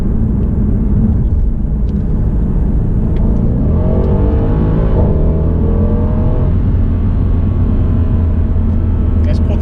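A Mercedes C63 AMG accelerates hard in Sport Plus, its engine roaring loud and close with deep rumble and rising revs heard from inside the car, sustained over the whole stretch.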